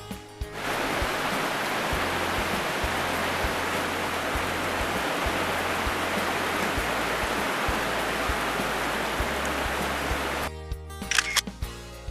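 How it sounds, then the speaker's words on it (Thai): Steady, dense rain hisses loudly and evenly for most of the stretch, then stops abruptly near the end, followed by a few clicks. "เพราะว่าฝนตกนะครับ"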